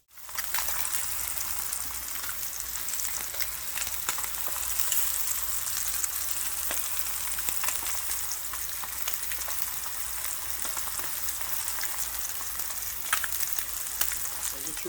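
Basa fillets pan-sear in melted butter, giving a continuous close crackling sizzle with a low steady rumble beneath and occasional sharper pops.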